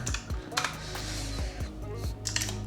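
A computer keyboard clatters with quick, uneven keystrokes close to the microphone, a string of crisp clicks and thumps with no talking.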